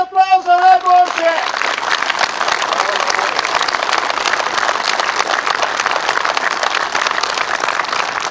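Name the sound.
applause for the best non-commissioned officer at brigade ceremony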